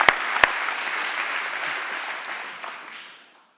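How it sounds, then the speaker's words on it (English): An audience at a SummerStrong16 talk breaks into applause with a couple of sharp claps up front, the steady wash of clapping then fading gradually to silence over three and a half seconds. "Let's give him a round of applause for going through that."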